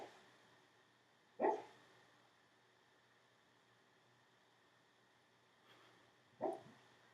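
A sleeping dog named Nola lets out two short muffled barks several seconds apart, faint and close in a quiet room with steady background hiss.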